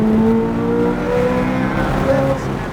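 Supercar accelerating hard down a straightaway, engine note climbing through rising revs with a gear change midway, loud and close from inside the car.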